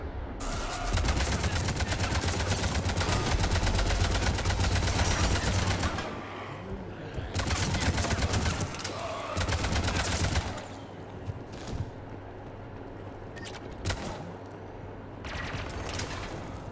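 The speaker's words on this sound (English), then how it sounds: "Foxtrot and Bravo are taking heavy fire." Heavy automatic gunfire in the video game Mass Effect 3, loud and continuous bursts for several seconds, then brief pauses and renewed volleys with scattered single shots.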